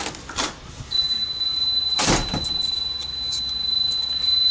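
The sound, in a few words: door being opened, with door-mounted door closer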